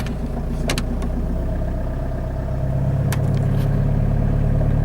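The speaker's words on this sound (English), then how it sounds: "And the engine slowly just revs up." An MG ZR engine with a management fault idles loudly nearby, then its revs slowly climb on their own with no throttle input, the tone rising steadily with a couple of light clicks.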